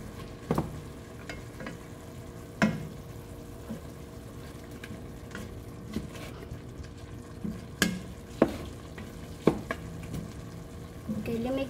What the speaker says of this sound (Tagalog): Now, we can stir it.